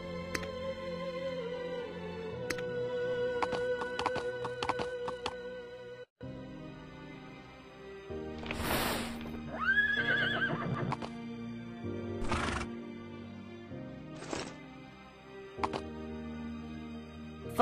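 Horse neighs and whinnies with clip-clopping hooves in the mobile RPG Ashland: Global, several loud whinnies standing out over a game music bed, with hoofbeats scattered between them.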